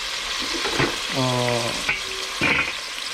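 Onion frying in a hot pan gives a continuous loud hiss and sizzle, with a voice heard briefly over the frying.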